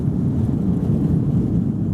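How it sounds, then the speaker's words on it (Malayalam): A passenger plane takes off from the runway at Mumbai airport, a steady loud low-pitched engine roar with no other sounds standing out. "ഛത്രപതി ശിവജി ഇന്റർനാഷണൽ എയർപോർട്ടിന്റെ റൺവേയിലൂടെ കുതിച്ചു പാഞ്ഞ് വിമാനം ആകാശത്തേക്കുയർന്നു"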